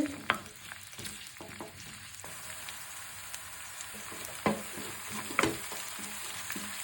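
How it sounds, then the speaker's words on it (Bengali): Finely chopped onions fry in white oil with cardamom and cinnamon, giving a continuous crackling sizzle punctuated by sharp spoon clanks and stirring scrapes against the pan. "পেঁয়াজটা ভালো করে গোল্ডেন কালারের আগে যে কালারটা হয় ওরকম করবো, একটু বেশি ভাজা ভাজা করবো"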